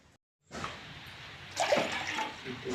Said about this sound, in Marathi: नंतर दोन कप पाणी टाकू